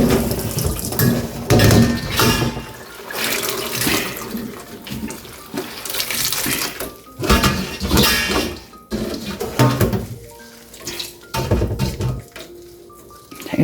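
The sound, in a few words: washing onion skins in water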